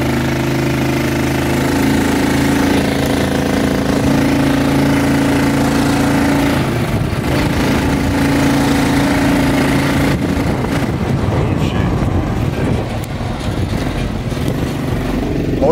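A small one-seater vehicle's engine runs loudly and steadily, chugging and rattling close by with a rough, knocking tone and no talk over it.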